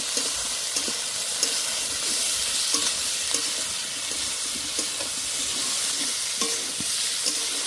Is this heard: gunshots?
no